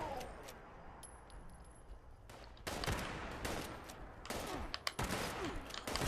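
Gunfight in Fallout 76, with bursts of rapid automatic gunfire arriving in loud clusters between quieter gaps, sharp cracks standing out near the end, with someone speaking briefly.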